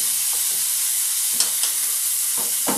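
Cauliflower florets fry in a pan with a steady, loud sizzle throughout, broken by a few soft stirring scrapes.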